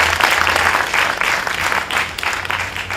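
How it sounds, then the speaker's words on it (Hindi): Theatre audience at a drama academy stage performance claps loudly and continuously, the applause swelling in rhythmic waves throughout, with a low hum underneath. "एक बार और जोर से तालियां बजाएं।"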